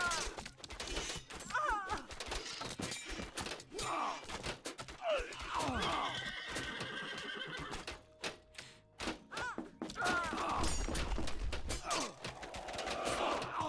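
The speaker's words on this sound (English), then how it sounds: "There's the White Horse Cavalry slamming in onto this position." Cavalry horses charging into a position during a real-time strategy video game battle: dense clattering combat noise with neighs and thuds over a busy, continuous mix.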